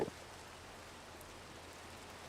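Steady rain falls in Minecraft 1.18 as a soft, even hiss that holds at a constant level throughout, with no voices over it.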